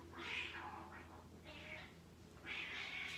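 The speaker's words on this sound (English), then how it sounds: "what you hear out there is a neighbor cat attempting to visit who is not a friend with my cat" A neighbor's cat yowls outside in three drawn-out, wavering meows separated by short pauses, heard from a distance indoors.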